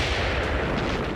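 Destroyer naval gunfire during a World War II Normandy landing, a loud continuous roar of heavy firing and blasts close by, dense and unbroken for its short length.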